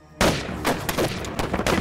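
A rapid burst of several loud gunshots in quick succession, sharp and close, following a moment of silence.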